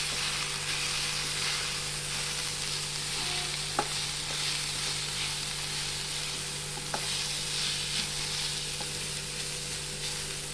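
Beetroot cooking in its own water in a pan with turmeric, stirred with a spatula: a soft, continuous frying sizzle with occasional light scrapes and taps against the pan.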